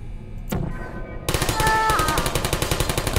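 Portal turrets open fire in a video game: a sudden burst at half a second, then a loud, rapid, sustained volley of evenly spaced automatic shots with high whirring tones layered through it.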